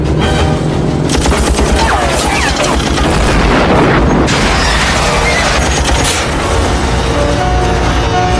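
Rapid gunfire and booming blasts rattle through an action film chase scene as a truck is pursued and shot at by many soldiers, dense and loud throughout over a roaring soundtrack, with faint voices.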